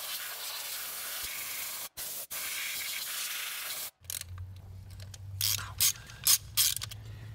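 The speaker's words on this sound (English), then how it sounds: "I'm gonna go ahead and rip these plugs out and see what they look like" A ratchet wrench clicks quietly and rapidly while spark plugs are loosened from an engine, in several short bursts separated by brief pauses, with a soft hiss and mechanical rattling near the end.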